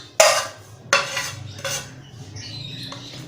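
Chopped onions, tomatoes and coriander being mixed on a plate give sharp scraping and clinking strokes, three distinct ones followed by lighter rattling, close and with no talk.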